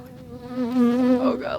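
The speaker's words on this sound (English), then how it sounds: "It's a bee!" A bee buzzing close by inside a van, a steady droning hum that swells louder toward the middle and wavers in pitch as it moves.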